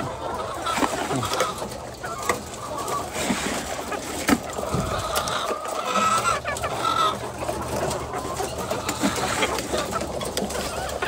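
Chickens in a flock of about 300 cluck and squawk continuously at feeding time in the rainy season, a busy, close chorus, with scattered bird calls and background clatter throughout.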